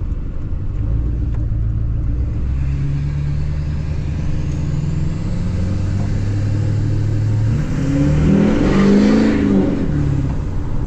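An LBZ Duramax diesel truck with a 5-inch straight pipe exhaust and 8-inch axle dump rumbles loudly and steadily up close, its engine note rising and surging near the end as the tires are spun in a burnout.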